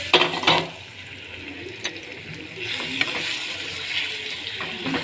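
Marinated chicken goes into a hot frying pan for curry, bringing a burst of sizzling and clatter, then a steady frying hiss with occasional scraping as it is stirred.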